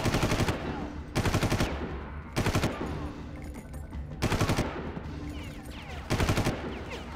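Automatic gunfire from the shooter game Far Cry rattles out in five short, loud bursts at roughly even intervals, with quieter game ambience between them.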